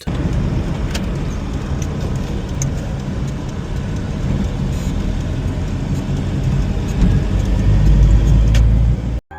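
A Peugeot 405 rear-wheel-drive sedan, over 20 years old, runs smoothly on a street in Iran, a steady engine and road rumble heard from inside, growing slightly louder toward the end before cutting off.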